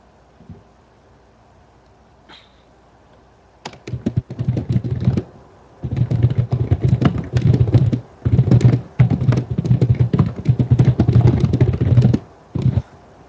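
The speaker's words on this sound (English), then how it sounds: "Loud typing is loud." Loud computer keyboard typing comes in close bursts of rapid clattering keystrokes, separated by brief pauses, after a few quiet seconds at the start. No voices are heard.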